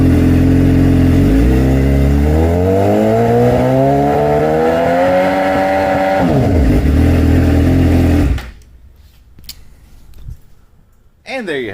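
A 2006–2007 Suzuki GSX-R 600/750 sport bike engine, fitted with a new stator and rectifier, revs steadily upward in pitch for several seconds before cutting back, then drops to quiet with a few faint clicks.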